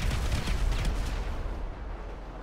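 Explosive charges detonating in the video game GTA 5, a loud, dense burst of booming blasts and rumble that crowds the start and then fades into a lingering low roar.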